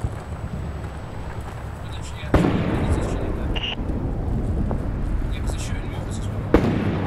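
Sharp gunshot cracks in the video game Six Days in Fallujah, two loud reports several seconds apart over a low rumbling ambience, with fainter distant pops between them.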